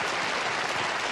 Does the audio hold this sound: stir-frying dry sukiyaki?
no